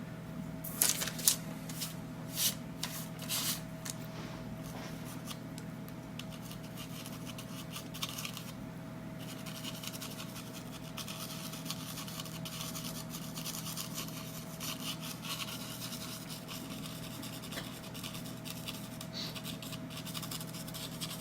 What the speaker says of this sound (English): Just drawing the shapes of a couple more groups of trees here in the middle.